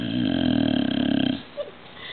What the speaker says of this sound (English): One more snore.